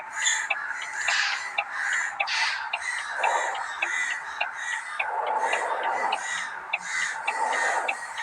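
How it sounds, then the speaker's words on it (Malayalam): A flock of crows squabbles and fights nearby, with harsh, repeated caws overlapping in a steady, noisy chorus that lasts the whole stretch without pause. "ഇവിടെ മൊത്തം കാക്കള് അടി കൂടുന്നു ഗൈസ്."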